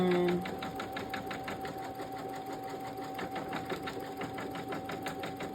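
An embroidery sewing machine stitches with pink embroidery thread in a fast, continuous mechanical rhythm. The needle taps form a rapid, even clatter close by, and a short tone is heard at the start.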